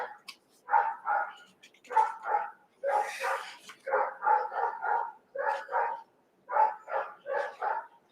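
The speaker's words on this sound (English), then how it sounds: "Don't mind the dogs" Several dogs bark in a series of sharp, clustered bursts, fairly close and loud, with brief pauses between the volleys and a few higher yips mixed in.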